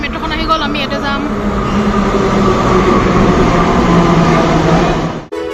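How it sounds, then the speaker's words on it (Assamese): A Kolkata metro train pulls into the station, a loud steady rumble and rolling roar with screeching high tones early on, then easing off at the end. "আৰু গাইছ এখন মেট্ৰ'খন আহি গ'ল"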